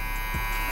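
A cheap see-through plastic cordless hair clipper runs with a steady, close, continuous electric buzz and hum.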